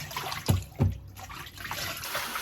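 Pork ribs are soaked and rinsed in clean water, giving close splashing and sloshing with two louder splashes early on, then a softer trickle.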